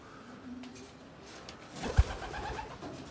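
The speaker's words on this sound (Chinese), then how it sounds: "看到没有，鸽子的状况大致就这样" Racing pigeons cooing in a loft, soft low coos from nearby birds over a quiet background, with a brief louder bump partway through.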